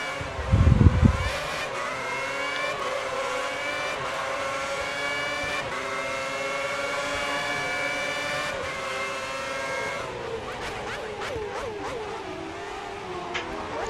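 Formula 1 cars race in the F1 2010 video game with a 2009-season mod at Bahrain, among them a Toyota, a McLaren and a Ferrari. Engines whine at high revs throughout, loud and steady, opening with a brief low thump.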